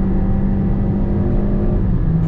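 Hyundai Elantra 2.0 automatic launching hard from a standstill in drive, a loud, steady engine drone with rising whir heard from inside the cabin, no voices over it.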